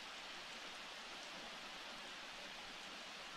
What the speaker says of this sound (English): how come I can't shower in the rain?